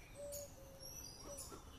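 A pair of black-green Shahjahanpuri pigeons giving faint, soft coos and a few thin chirps, distant and quiet over a low background hum.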